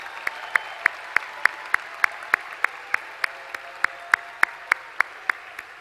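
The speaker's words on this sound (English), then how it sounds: "Could we give them a round of applause for an unbelievable job with that?" Applause at a Gulliver Prep high school graduation ceremony: about twenty sharp, evenly spaced claps in a steady rhythm, fairly close and distinct, over a faint background hum.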